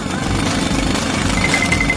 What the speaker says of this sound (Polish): Pomoże mi w tym młot pneumatyczny. Zaraz zmiażdżę wszystko na okruchy.